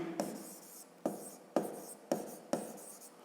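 Five quick pen strokes scratch across paper at an even rhythm while a maths solution is written out, close and quiet with nothing else heard.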